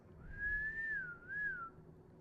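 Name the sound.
a person whistling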